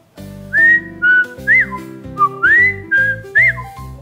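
A series of clear whistled notes, some rising and sliding, repeated in short phrases with brief gaps, loud and close.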